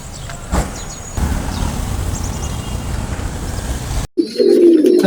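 Teddy pigeons coo softly amid rustling and a steady background hiss, with a few faint chirps and a sudden louder bump near the end.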